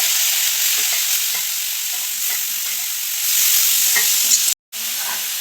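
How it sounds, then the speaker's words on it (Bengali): Crushed onion, garlic, ginger and green chili fry in hot oil for a dried-fish and mixed-vegetable dish, giving a steady, loud sizzle with faint stirring and one brief dropout. "এখন এই থেতো করা মশলা, পেঁয়াজ, রসুন, আদা, কাঁচামরিচ এগুলো ভাজা করে দিচ্ছি।"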